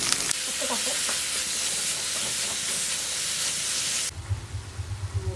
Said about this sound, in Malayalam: കടുക് പൊട്ടി അതിലേക്ക് ഇട്ട് പച്ചമുളക് കറിവേപ്പില എല്ലാം കൂടെ ഇട്ട് ഇഞ്ചി വെളുത്തുള്ളി